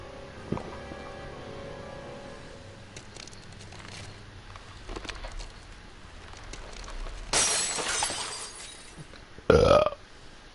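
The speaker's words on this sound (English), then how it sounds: "That was a good burp." A loud, short burp from a character in the game Tales of Arise, bursting out after quiet background music and ambience.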